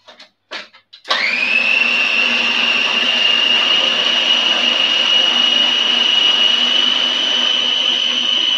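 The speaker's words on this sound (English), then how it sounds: "you can do this in with an immersion blender" An immersion blender whirs loudly and steadily through vegan cheese sauce after a few short knocks, holding one continuous high-pitched motor drone close by.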